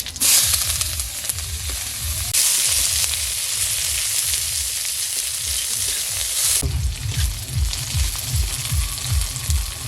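Cumin, bay leaf and onion frying in hot oil for a prawn chorchori with radish: a loud, continuous close sizzle with rhythmic stirring scrapes and thumps throughout.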